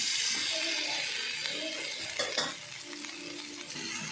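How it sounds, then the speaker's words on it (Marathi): Finely chopped okra sautés in a hot pan, giving a steady, close hiss of frying with a few louder stirring scrapes midway, and no talk over it. "आता या भेंडीला मी छान परतून घेते."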